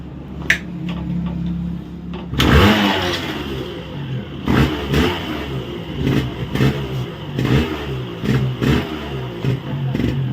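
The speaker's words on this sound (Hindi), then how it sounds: "गाड़ी जो है वो 1 किक स्टार्ट हो गई है" A restored Yamaha RX135 two-stroke motorcycle kicks into life and revs in repeated loud, rasping bursts over a steady idle, close by.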